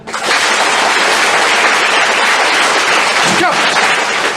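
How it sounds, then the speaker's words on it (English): Engineering students in a campus hall clap together on request, a loud, dense burst of hand clapping that starts abruptly and holds steady like heavy rain until the end. "If you agree, be sincere and clap."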